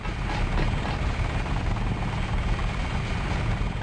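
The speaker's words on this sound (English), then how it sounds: "I believe that helicopter is completely invulnerable to whatever I would happen to do to it." A helicopter in the video game Deus Ex gives a steady, loud rotor drone with low engine rumble that stays constant throughout, with no voices over it.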